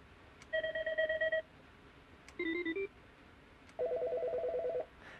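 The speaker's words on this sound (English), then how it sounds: "You'll see most of the first set of ringtones all sound similar with just different cadence." An IP Centrex desk phone plays a series of electronic ringtones: three separate bursts of bright, pulsing beeps, each with a different cadence and pitch pattern, loud and clear with short silences between them.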